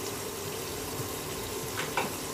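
Boal fish seasoned with turmeric, chili and salt fries gently in oil, a steady soft sizzle with a couple of faint stirring clinks.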